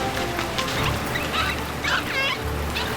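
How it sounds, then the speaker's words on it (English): African sacred ibises and other water birds at a dam wetland in Nairobi National Park, giving honking, goose-like calls in short scattered bursts over a constant outdoor background. "the wetland is dominated by African sacred ibises"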